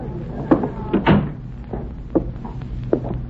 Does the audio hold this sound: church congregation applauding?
no